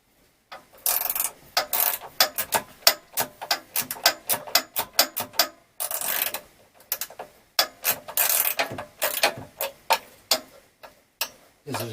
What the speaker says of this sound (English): I'm going to use my 10mm socket and hopefully not screw this up too much